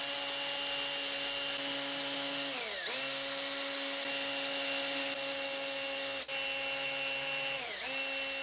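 A power tool drives long screws into a drilled washer, its steady high whine running continuously and dipping in pitch as it bogs down under load several times, close and fairly loud.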